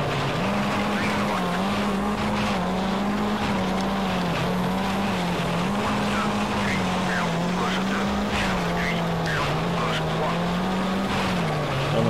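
A Ford Focus rally car engine in World Rally Championship III drones steadily near and loud, its pitch rising and dipping through gear changes on a mountain stage while someone talks over it.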